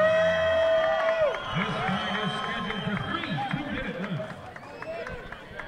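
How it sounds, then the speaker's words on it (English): Crowd at a karate fight cheers and whoops for a 215-pound competitor, the roar steady and fairly close, with voices calling out through it. "A warm round of applause for Gabriel."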